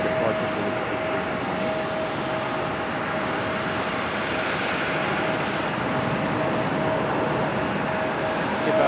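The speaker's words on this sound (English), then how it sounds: "Good sounding departure for this A320." An Airbus A320 jet departs Raleigh Durham airport with a sustained, moderately loud engine roar and a steady tonal whine running through it, holding evenly from start to finish.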